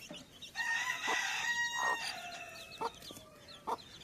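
Chickens nearby, a rooster crowing one long drawn-out call while hens give short clucks at intervals, fairly close with no talk.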